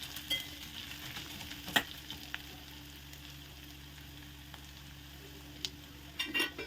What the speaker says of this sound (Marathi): कांदा गोल्डन ब्राऊन होईपर्यंत शिजवून घ्यायचा आहे.